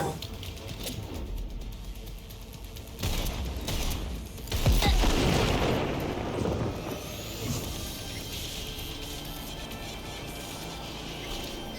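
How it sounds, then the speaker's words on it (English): Machine gun fire in the video game Cyberpunk 2077, bursts of rattling shots and crashing impacts rising mid-way amid dense combat noise, loud and continuous with no voices. "A machine gun rattles, a formidable adversary."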